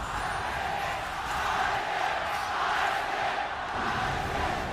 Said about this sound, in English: Crowd tells us which team just won a team fight right there